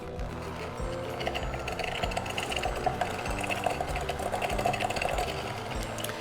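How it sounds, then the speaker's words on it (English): A hand mixer running on low speed while creaming sugar for apple cider whoopie pies, a steady close mechanical whirr with rapid rhythmic beating and rattling against the bowl, fairly loud and continuous with no voices. "use your hand mixer or your stand mixer and start on low speed"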